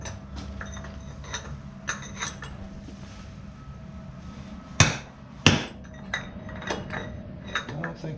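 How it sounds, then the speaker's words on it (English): Several metallic hammer blows from a bigger hammer, driving AT3 rear wheel bearings, ring out at irregular intervals, with two especially hard, loud strikes in the middle among lighter taps and clinks. "Sometimes you just have to get a bigger hammer."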